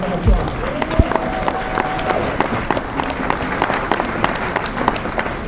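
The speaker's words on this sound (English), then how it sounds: "Women, give yourselves a round of applause." An audience at a YWCA Women of the Year awards event applauds, with scattered sharp claps forming a moderate, uneven patter while a voice and some background sounds carry alongside it.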